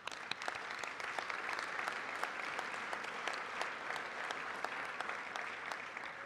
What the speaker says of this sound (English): Give yourselves a round of applause for being generous.